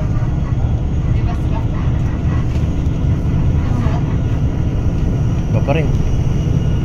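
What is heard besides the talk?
small airplane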